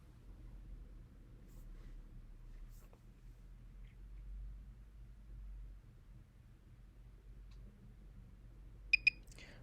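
A microcurrent facial device used on the jaw and cheek gives a quick double beep near the end, two sharp bright tones close together, over a low steady hum of background noise.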